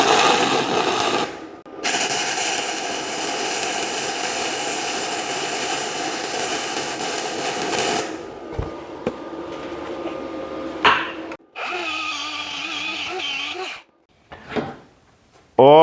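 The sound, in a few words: MIG welder welding two steel sheets without gas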